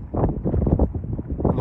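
Strong gusty wind buffeting the microphone at a small regional airport as a plane comes in to land, a loud continuous low rumble with uneven surges.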